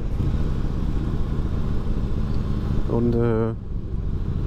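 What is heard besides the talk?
Harley-Davidson motorcycle engine running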